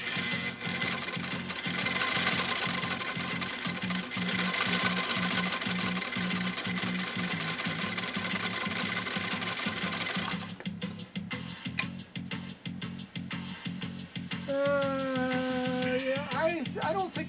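A restored 1923 Singer 66-1 sewing machine runs steadily at close range with a fast, even needle clatter, then slows and stops into sparser mechanical clicks and a brief whirring wind-down near the end.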